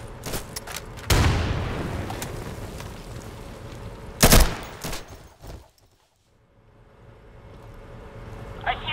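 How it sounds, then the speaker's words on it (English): An Insurgency firefight plays out with a steady wash of distant gunfire, then a loud close blast from a grenade explosion, a second thump, a brief near-silent lull and rising ambient noise. "Tossing a grenade!"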